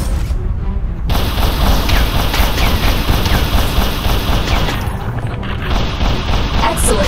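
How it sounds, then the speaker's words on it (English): Loud pistol shots in the VR shooter BlackShield, heavy booming reports over a dense, constant wash of game noise and rumble. "Press trigger to fire your arms."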